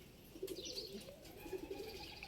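Rooftop pigeons kept for flight training coo in soft, low repeated phrases, fairly close, with scattered higher chirps and a faint background hum throughout.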